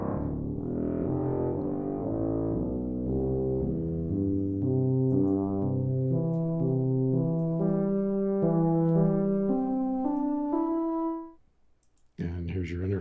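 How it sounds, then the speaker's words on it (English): An East West sample library tuba playing a legato line, with smooth connected low notes stepping upward and sustaining, warm and full, then a short silence and a brief return of sound near the end. "tuba."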